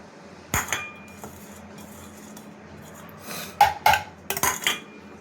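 A spoon stirring and mixing raw mango pieces in a bowl, giving several sharp clinks and scraping knocks in scattered bursts over a quiet background, close and with no talking.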